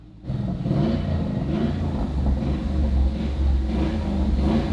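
A Ford Mustang Boss 302 V8 idles with a deep, loud rumble, revving in waves that swell and settle repeatedly.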